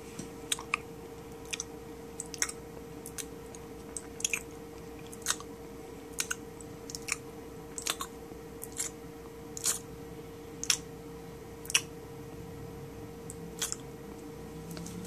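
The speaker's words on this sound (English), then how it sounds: "chewing with your mouth open" Someone chewing with their mouth open: wet, clicking smacks at an irregular rhythm, loud and close, over a faint steady hum.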